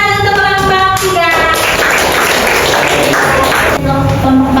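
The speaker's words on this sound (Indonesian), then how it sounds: "Beri tepuk tangan untuk kelompok 3." Classmates in a classroom break into loud, steady clapping for a student group, a close, dense burst of applause lasting several seconds, with tonal hum or music running underneath.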